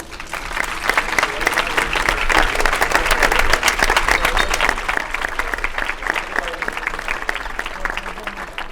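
Audience applause at a band concert in a university auditorium, a dense sustained ovation of many hands clapping, loud and close, slowly easing toward the end.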